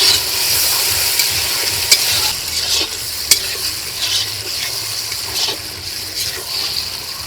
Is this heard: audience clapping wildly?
no